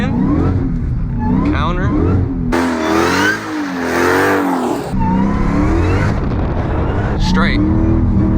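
A car drifts through an S-turn while learning left-foot braking, its engine revving hard and tires squealing in a long screech, loud and close, with a person talking over the noise throughout.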